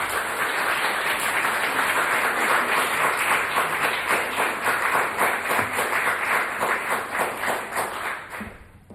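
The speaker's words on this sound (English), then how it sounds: "So please, a warm applause to Erin Cech." Audience applause at an LGBTIQ workplace inclusion symposium, a sustained wash of many hands clapping at steady strength for about eight seconds before cutting off abruptly.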